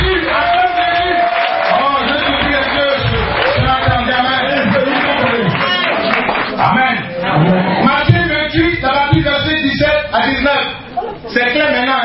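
A church congregation cheers and acclaims Jesus during a French-language sermon by a preacher: a loud, sustained mass of voices shouting and calling out together, with whoops and chatter rising and falling throughout.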